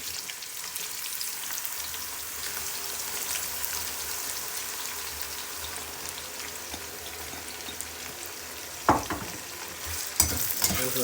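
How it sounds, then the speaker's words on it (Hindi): Onions fry in hot oil in a pan over a high flame for chicken korma, a steady, even sizzle with a few sharp clicks of a utensil stirring near the end. "ऑयल हमारा गर्म हो गया, अब हम इसमें प्याज ऐड कर देंगे अपने"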